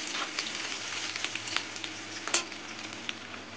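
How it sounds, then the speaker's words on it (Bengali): Chopped onion frying in hot oil with cumin and bay leaf in a pan, a steady close sizzle with scattered pops and crackles throughout, no talking. "পেঁয়াজটা একটু লাল করে ভাজবো"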